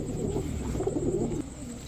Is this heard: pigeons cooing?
yes